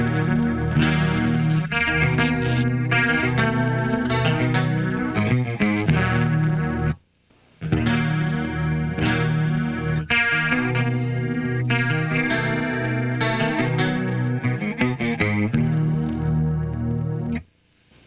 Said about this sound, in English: Here's riff 26, clean sound.